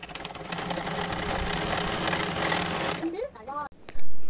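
A sewing machine stitching fabric for a blouse latkan runs steadily for about three seconds, humming and rattling up close, then stops and leaves a few brief faint sounds.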